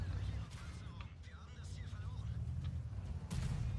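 A tank cannon fires in World of Tanks, one sharp shot near the end rising over a steady, heavy engine rumble with battle noise around it.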